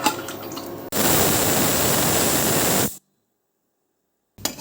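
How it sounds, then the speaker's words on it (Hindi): Water poured into a pressure cooker for paya soup: a loud, steady rushing splash lasting about two seconds, preceded by fainter noise and followed by abrupt silence. "ये देखिए, ये गया पानी। यही तो पानी सूप बन के निकलेगा बाहर।"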